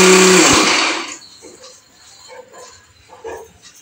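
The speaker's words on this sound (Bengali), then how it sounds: "মশলা করা হচ্ছে।" A mixer grinder grinding spices roars loudly for about a second, then shuts off, leaving a quiet room with faint scattered sounds.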